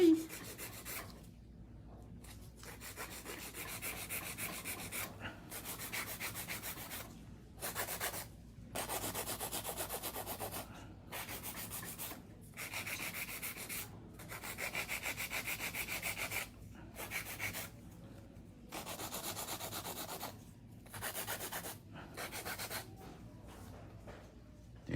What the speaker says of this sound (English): I'm gonna do a little bit of hand filing before I do my cuticle work and top coat